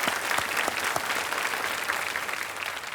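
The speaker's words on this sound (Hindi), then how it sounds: "तालियां एक बार फिर बज जाएं इनके लिए" Studio audience on the KBC quiz show clapping, a dense continuous burst of applause filling the room, loud and even throughout.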